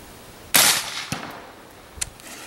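Sharp crack of a suppressed subsonic 300 Blackout rifle shooting a 190 grain round into gel at 100 yards outdoors, followed by a brief echo and a faint distant thud of the impact.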